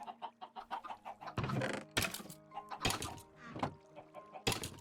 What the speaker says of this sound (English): the chickens are very, very loud